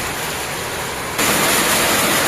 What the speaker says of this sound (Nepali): पानी परेकै हो है साथीहरू